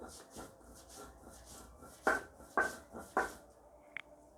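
Spices being ground by hand on a stone slab, with three distinct rough scraping strokes in a row at moderate volume and a faint click afterward. Quieter room sound and a few softer rubs come first.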